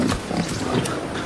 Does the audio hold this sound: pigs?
yes